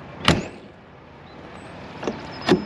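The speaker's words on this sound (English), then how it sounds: "Shut the door." An RV door is shut with a single sharp thud, followed by two lighter clunks of latching a moment later, close by with little other sound.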